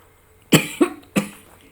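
Three sharp coughs in quick succession, close and fairly loud, with short pauses between them and no talking.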